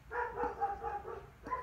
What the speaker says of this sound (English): my dog gives me a heads up anytime anyone's near the yard